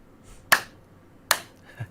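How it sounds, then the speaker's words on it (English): Two sharp, isolated hand claps a little under a second apart, close and fairly loud, followed by a faint softer tap in an otherwise quiet recording room. "And synchronization clap."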